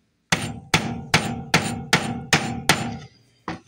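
Seven sharp, evenly spaced hammer blows pound a crooked nail against wood, loud and close, followed by a brief pause and one final strike, with no talking.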